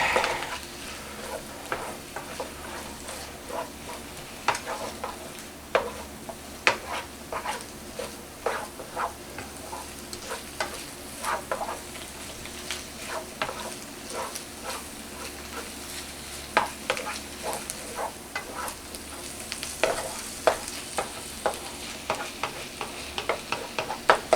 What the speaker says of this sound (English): Keep stirring it so nothing burns.